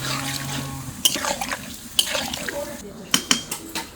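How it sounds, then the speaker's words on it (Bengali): Water is added to a simmering curry of potato, carrot and paneer, with a wet sizzle and a series of spoon and pot clanks and scrapes as it is stirred, close by. "এবার আমি জল দেবো, আর খুব বেশি জল দেবো না।"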